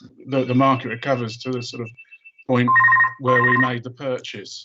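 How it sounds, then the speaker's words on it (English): A telephone rings twice as an electronic tone during an online council committee meeting, heard under someone talking, with the first ring in a pause and the second overlapping his speech. "that was the phone"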